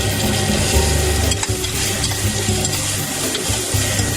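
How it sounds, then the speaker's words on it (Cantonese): Pork ribs searing in hot olive oil in a soup pot with garlic and leek, a close, continuous loud sizzle with faint stirring scrapes and no voices. "就將嚿排骨擺落去煎佢"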